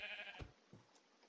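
Sheep bleating in Minecraft, two short bleats close by over a quiet game background, with no voices.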